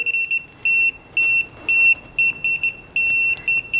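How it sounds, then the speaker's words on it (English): Rapid electronic beeping from a handheld voltage tester, shrill tones chirping in uneven bursts, some short and some held, loud and close. "Beeps up faster if it detects higher voltages."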